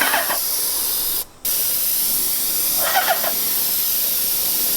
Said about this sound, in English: Remember to keep the spray head an even distance from your fence as you spray.